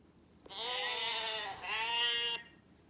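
A lamb bleats twice in quick succession, each call a clear, wavering cry heard close up and alone.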